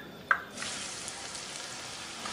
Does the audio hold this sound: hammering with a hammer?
no